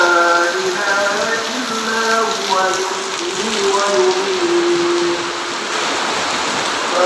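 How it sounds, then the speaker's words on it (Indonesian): Steady heavy rain hisses continuously at 4 a.m. near a large mosque, with a voice talking over the downpour. "Ini jam 4 subuh, hujan deras guys."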